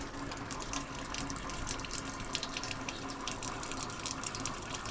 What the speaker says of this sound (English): I'm going to switch the pump on. I'm going to get some of the water coming through the taps.